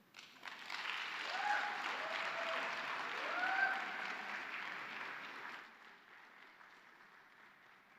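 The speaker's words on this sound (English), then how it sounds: "Let's give Naledi another round of applause." Warm, continuous audience applause at an academic presentation competition, swelling after a brief start, holding steady for several seconds, then tapering to a thinner patter at the end.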